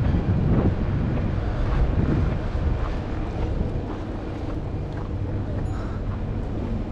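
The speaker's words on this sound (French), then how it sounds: "Ah, il y a un peu de vent ici." Wind buffets a handheld microphone outdoors on a sightseeing walk in Rome, Italy, a steady loud low rumble filling the whole stretch with no talk over it.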